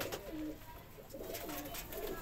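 Pigeons kept in a loft, including a white-faced one, give faint, repeated low coos over steady background noise, with people talking nearby.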